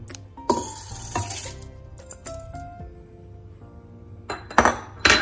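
Washed dal and rice poured into a pot, with clinks of a utensil against the vessel and soft pattering of grains, several distinct close knocks spread across the span and loudest near the end.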